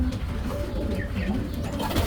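A young pigeon in a loft gives soft, low cooing calls close by, over a steady background murmur, with no speech.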